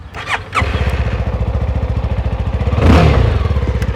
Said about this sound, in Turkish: Motorun sesini de sizlere bir dinletelim.